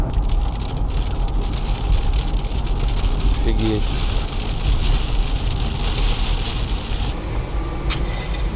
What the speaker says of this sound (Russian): Вот это вот, ну, там уж хороший дождь.